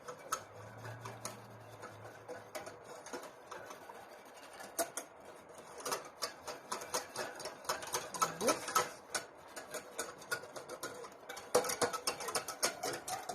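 Whisk rattling through a bechamel of flour, butter and milk in a pan, a steady stream of quick metallic ticks and scrapes that grows busier and louder toward the end, heard close with no talking.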